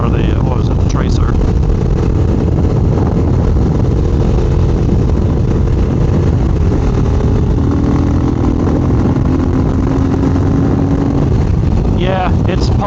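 A 2022 Triumph Speed Twin motorcycle engine runs on a dyno, a loud continuous engine roar sustained throughout with rising and shifting tones as it pulls through sixth gear.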